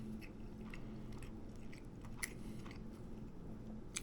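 Someone eats a homemade slider, a miniature burger, with soft, close chewing and crunching bites repeating over a faint steady background hum.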